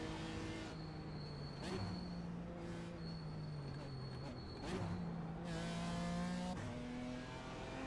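A race car engine on a track rises and falls in pitch through repeated revving pulls, with quick blips on the downshifts, all continuous and fairly distant.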